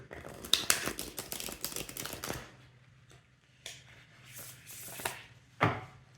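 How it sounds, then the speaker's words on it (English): A deck of tarot cards is shuffled by hand, with a dense run of crisp riffling and flicking for about two seconds, then quieter, scattered card taps and slides after a pause, close up and without talk. "Just going to shuffle like this in order to purify the energy of the deck."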